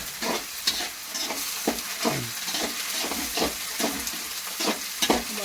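Onions and tomatoes frying in a pan for Andhra-style gobi manchurian, with a steady close sizzle broken by repeated scraping, stirring strokes and no talking.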